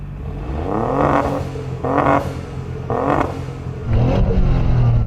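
A 600hp Toyota GR Yaris engine revs hard in repeated bursts, rising and falling three or four times with a whooshing, whirring turbo edge, close and loud.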